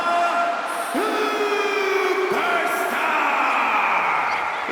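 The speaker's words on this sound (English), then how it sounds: "It's great to hear the crowd give this superstar the reception he deserves" A video-game wrestling arena crowd in WWE 2K25 roars steadily for a superstar making his entrance, a continuous loud wash of cheering with rising whoops layered over it.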